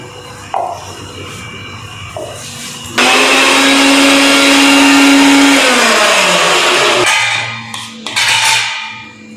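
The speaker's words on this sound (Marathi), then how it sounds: "डाळ दळून घेते पहिली" A mixer grinder grinds cooked chana dal for amti served with puranpoli, revving up loudly for about four seconds and winding down, with brief handling clicks and lid knocks before and after.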